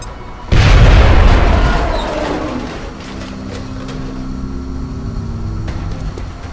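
A frag grenade detonates in XCOM: Enemy Unknown, a sudden loud boom with a heavy low-end rumble that decays over a couple of seconds into a lingering game ambience.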